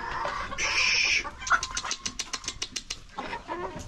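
A flock of farmyard chickens, including young birds from a rooster, clucks close by in a quick run of short, rhythmic bursts, with a louder squawk near the start.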